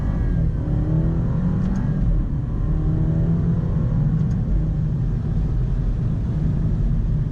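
An Alfa Romeo car engine of about 280 horsepower drones loudly nearby, its pitch sweeping up and down as it revs and accelerates, heard from outside the vehicle.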